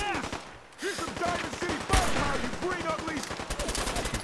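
Rapid gunfire in Fallout 4 with a sniper weapon, dense repeated shots and bursts over busy game sound, with a person talking over the action.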